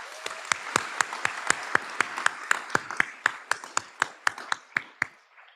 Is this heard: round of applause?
yes